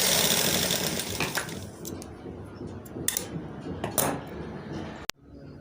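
A sewing machine stitches kurti fabric in short runs, its rapid mechanical whir starting and stopping with a few sharp clicks between bursts, close and moderately loud.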